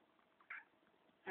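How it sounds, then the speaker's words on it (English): A black cat in a dark room gives a short, close meow midway and a louder, sharper one at the very end, with quiet room noise between. "Daft cat."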